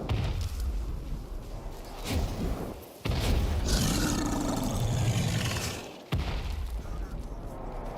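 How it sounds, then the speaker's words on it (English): Deep, rumbling roars from an Eidolon in the video game Warframe swell and fade in long waves, separated by brief drops, with booming low thuds and game effects mixed in. "There's just the Eidolon making noises over there."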